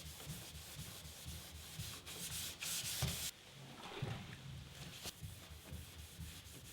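A car body panel is rubbed down with 800-grit paper wrapped around a rubber block, giving a faint, steady back-and-forth scraping close by, with a few slightly harsher strokes midway.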